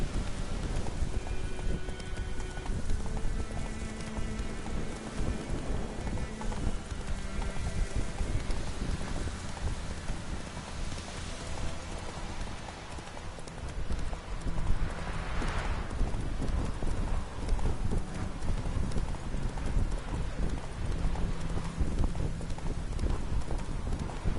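Roach, the horse in the video game The Witcher 3, gallops with a steady, rapid clip-clop of hooves that runs unbroken throughout, close and loud over a light wash of wind.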